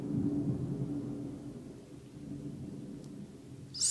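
Thunder rolling during a storm, heard from inside a reputedly haunted house: a low, distant rumble that swells and fades, ending with a brief sharper burst.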